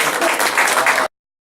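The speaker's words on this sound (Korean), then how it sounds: "환영의 박수 부탁드립니다" Workshop audience at a senior center giving a brief burst of applause, a dense close crowd of clapping hands lasting about a second before cutting off abruptly into silence.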